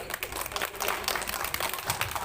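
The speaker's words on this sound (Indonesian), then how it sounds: "Baik, tepuk tangan, tepuk tangan." An audience at a school quiz contest claps in sustained, dense applause that rises and falls for a couple of seconds, moderately loud and close, without speech.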